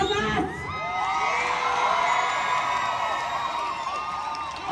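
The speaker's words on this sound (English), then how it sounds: "notice what got the biggest cheer from the crowd too" A large crowd at a rally cheers loudly and continuously, with many voices whooping and shouting together in a sustained roar that swells and then eases slightly.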